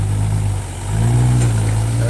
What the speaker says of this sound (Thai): รู้สึกว่าเครื่องจะดับแล้ว